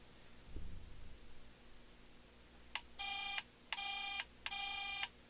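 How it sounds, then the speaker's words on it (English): Three short electronic horn beeps come from a 1/8 scale DeAgostini Toyota AE86 Sprinter Trueno model kit. They are evenly spaced, thin and fairly quiet after a brief handling noise. "we'll try the horn."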